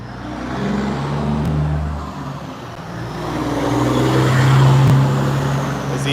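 A semi truck and cars pass along a street, a loud, close engine rumble and tire roar that swells, dips, then swells again as vehicles go by, with no talking.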